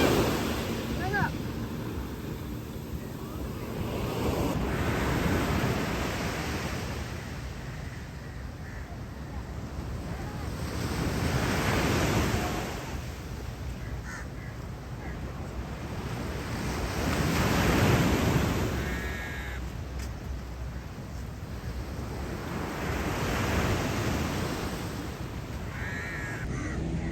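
Waves wash onto a sandy beach in Penang in slow, rolling swells that rise and fall every few seconds, mixed with wind buffeting and occasional crow caws, while people talk nearby.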